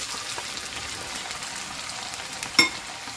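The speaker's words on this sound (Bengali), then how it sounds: "আলুটাও ভালো করে ব্রাউন কালার করে ভেজে নিতে হবে" Diced potatoes browning in a pan give a soft, steady sizzle throughout, with one brief sharp clatter of stirring near the end and no voices.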